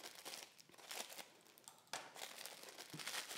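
Plastic wrap around a package of frozen pie crust dough crinkles and tears as it is cut open, a close, continuous rustling with a sharper rip near the middle.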